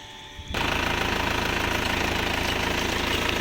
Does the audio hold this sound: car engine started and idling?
yes